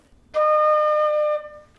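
A single clear flute note, D, held steadily for about a second, bright and pure, starting suddenly and ending with a gentle fade.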